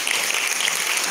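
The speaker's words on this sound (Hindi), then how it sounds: "तालियों से स्वागत।" Audience applause welcoming the chief guest at an Independence Day (15 August) celebration, a dense, steady wash of many hands clapping throughout the short moment, fairly loud and without speech.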